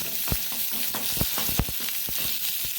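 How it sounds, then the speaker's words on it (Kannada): Chopped onion and ginger frying in oil in a pan: a dense, steady sizzle with repeated scraping stirs every fraction of a second, close and continuous, no voices. "ಇನ್ನು ನೀರುಳ್ಳಿ ಹಾಗೂ ಶುಂಠಿ ಇಷ್ಟನ್ನು ಚೆನ್ನಾಗಿ ಫ್ರೈ ಮಾಡಿಕೊಳ್ಳೋಣ"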